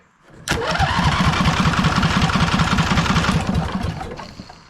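The replacement engine on a Lesco Viper 54-inch zero-turn mower cranks over steadily during a cylinder compression test, a loud rhythmic chugging starter rumble lasting about four seconds before cutting off.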